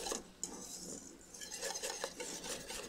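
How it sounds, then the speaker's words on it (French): Spoon or whisk scraping and clinking against a pot while a cornstarch mixture thickens over low heat, steady close stirring with occasional sharper taps, no voices. "Surtout on ne s'arrête pas de mélanger"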